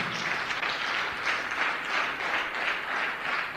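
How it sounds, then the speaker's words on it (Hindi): Applause from a seated crowd of about 150 to 200 at a business leadership meeting, a continuous rolling wash of clapping with gentle surges, moderately loud and without talk. "इनके लिए जोरदार तालियां बजाइए आप"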